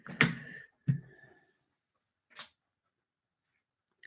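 A dog gives a couple of short snorting, sneeze-like huffs close by, followed by a faint brief sound, in a quiet room with no talking.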